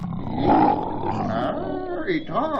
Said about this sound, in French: C'est la première fois que j'entends un chien rugir.